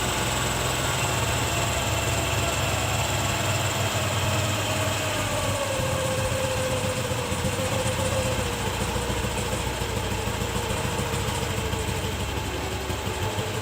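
A TVS Jupiter scooter engine idles steadily during carburetor mixture tuning, a constant loud mechanical drone heard close, with a faint tone that drifts as the revs settle.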